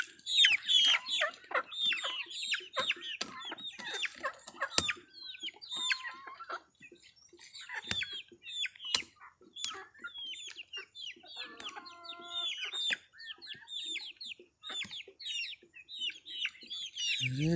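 Large laying hens cluck and chirp in a pen, a busy flock of overlapping close calls and short squawks with occasional louder cackles, continuous across the whole stretch.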